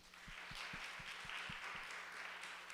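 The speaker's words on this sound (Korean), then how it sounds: "격려하며 박수하겠습니다" Congregation at a church youth worship service applauding to encourage the youth group, a faint, steady wash of clapping from a crowd heard alone at a distance.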